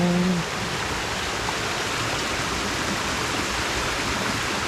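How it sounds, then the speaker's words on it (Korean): A mountain stream rushes loudly near a trailhead on Gayasan, a steady, dense wash of water at close range; a brief voice is heard at the start. "물소리가 우렁차네요"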